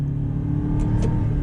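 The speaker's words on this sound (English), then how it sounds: "see how we downshift and there's a delay" An Aston Martin DBX, a heavy SUV, downshifts on tight twisty roads, its engine a steady close low rumble inside the cabin, with a slight rise in revs near the end.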